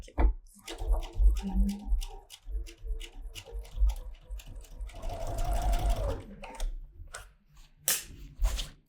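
A home sewing machine stitching fabric on the back yoke of a pajama top, with quick bursts of rhythmic mechanical whirring broken by pauses, handling clicks and a longer continuous run in the middle, close and loud.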